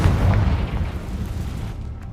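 A Confringo blasting spell explodes in Hogwarts Legacy, a loud, deep boom with rumbling low-end that decays over about two seconds, heard alone without talk.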